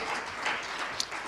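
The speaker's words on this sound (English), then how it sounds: "Shall we give it that resounding applause?" Applause from the audience at a provincial tourism stakeholder engagement, dense and continuous clapping that stays at an even level, with one sharper clap or shout standing out briefly.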